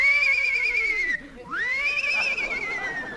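A horse whinnies loudly and up close in a radio drama scene, a long wavering high neigh that dips briefly, then rises again into a second drawn-out whinny that slowly trails off.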